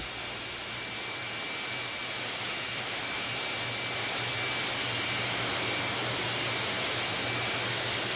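Jet aircraft engines roar steadily at an airport as mail flights arrive and depart, a constant loud whine and rumble that swells slightly and holds without a break.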